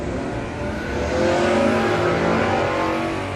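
A third-generation Camaro at a no-box drag racing event roars under hard acceleration, its loud engine swelling steadily and staying close throughout.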